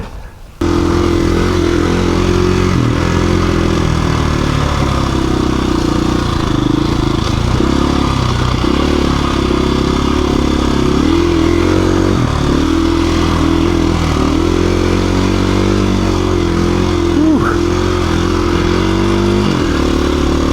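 KTM 350 EXC-F dual sport motorcycle riding a single-track trail through a valley: a loud, continuous engine drone heard up close from the rider's position, rising and falling with throttle, alone without talk.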